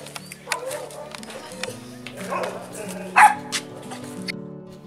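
Small dogs yapping and whimpering indoors, with several sharp barks and yips scattered over nearly five seconds beneath steady background tones and occasional movement noise.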